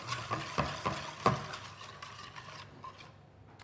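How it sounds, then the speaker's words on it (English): A whisk beats caster sugar into pancake batter in a bowl: quick, rhythmic scraping strokes with light clinks, close, then tapering to a quieter swirl, with no talking. "just give it a really good whisk, just making sure there's no lumps in the sugar or anything"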